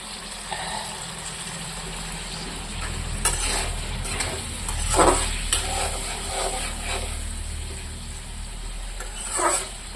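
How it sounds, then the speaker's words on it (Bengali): Potatoes fry with spices in a pan in a soft, steady sizzle, with occasional faint stirring scrapes and no voices. "আলুটা দিয়ে একটু ভাজা করব"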